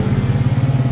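A motorcycle engine idling close by right after a sprocket cover install, a steady low throbbing putter with an even pulsing rhythm and no speech.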